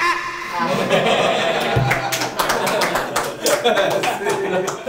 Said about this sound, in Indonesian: Kenapa tiba-tiba tepuk tangan?